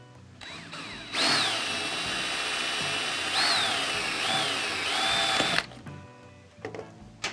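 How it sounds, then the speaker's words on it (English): A power drill bores out rivets on the bottom end cap of a Beta XTrainer silencer fitted with an Enduro Engineering spark arrestor. Its loud, close whine runs steadily for about four seconds, dipping and rising in pitch as the bit bites, then stops. "now you're going to want to drill out the three rivets on the bottom end of the silencer"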